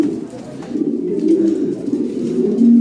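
Pigeons cooing close by, low throaty rolling coos that swell and repeat in a continuous murmur, fairly loud and alone without talk.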